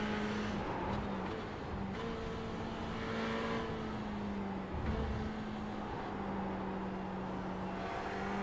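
Ferrari GT3 race car engine in the iRacing simulator, a steady droning engine tone that rises and dips slightly with gear and throttle changes, fairly quiet throughout and with no talk.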